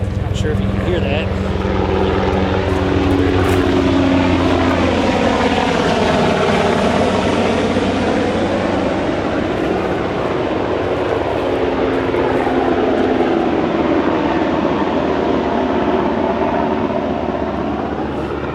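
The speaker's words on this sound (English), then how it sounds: "Thought I heard a helicopter." A low engine drone with a rising and falling tonal sweep passes overhead, steady and fairly loud, consistent with a helicopter or aircraft flying by.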